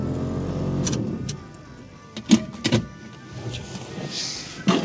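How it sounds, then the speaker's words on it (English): An old Chevy LUV pickup's heater blower motor runs noisily, a steady whirring drone with a few sharp clicks and knocks partway through, no talking. "we got a blower motor"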